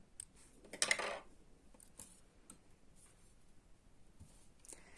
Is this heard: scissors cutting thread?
yes